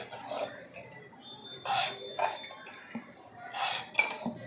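A spoon stirs crushed green chilli and coriander into buttermilk for kadhi, making several separate bursts of clinking and scraping against the bowl with quiet gaps between them.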